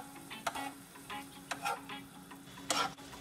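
Ingredients with soy sauce being sautéed in a pan for homemade chicken-flavour fried rice give a soft sizzle under a few sharp spatula scrapes and clinks, close and without talk.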